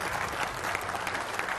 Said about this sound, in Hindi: तालियों के साथ स्वागत कीजिए मलुक नागर साहब, नेशनल जनरल सेक्रेटरी आरएलडी के।